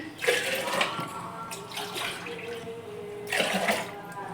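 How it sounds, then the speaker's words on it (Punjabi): Water pouring into a jal jeera mixture, a steady splashing stream with a couple of louder gushes at the start and near the end, close by with no talk. "ਆਪਾਂ ਜਿਹੜਾ ਪਾਣੀ ਲਿਆ ਸੀ ਉਹ ਹੁਣ ਇਹਦੇ ਵਿੱਚ ਪਾ ਦਾਂਗੇ"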